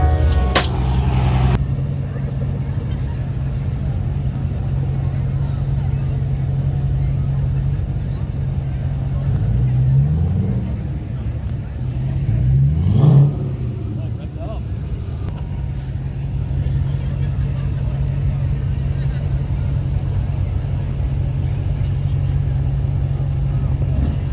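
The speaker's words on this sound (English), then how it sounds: "so we got Dave in there driving around just so you can get used to the steering" A truck fitted with hydraulics drives and backs around, its engine giving a steady, close, low rumbling hum with small swells in the middle, while muffled voices come and go.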